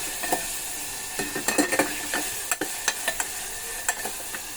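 Tomatoes frying in a pan for brinjal (eggplant) chutney, with a steady close sizzle broken by repeated sharp scrapes and clicks of a spoon stirring against the pan.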